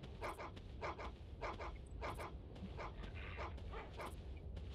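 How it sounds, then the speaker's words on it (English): Rhythmic barks from Amphicyon in the Carnivores Far North video game ring out at a distance, faint but regular, one bark roughly every half second over a low, steady outdoor rumble. "all the barking here is just those guys out and about"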